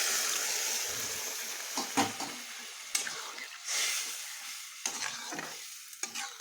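Boiled mung and pea dal is poured into vegetables frying in a pan for a Bengali vegetarian dish, then stirred. A bright, hissing sizzle is broken by repeated scraping strokes and wet sloshing.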